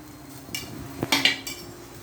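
A metal spoon scrapes and clinks against a pot while stirring horn-shaped pasta with mixed yellow, brown and black spice powders, giving a few close, sharp taps in a short burst.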